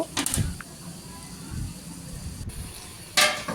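Taro (kochu) curry stirred in a pot: a scrape of the spoon and a soft clatter, then a quiet bubbling simmer, and another sharp knock near the end.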